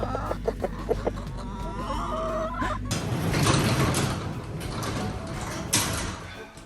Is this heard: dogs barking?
no